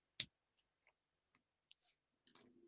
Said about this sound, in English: So I'm using the precision scissors to cut.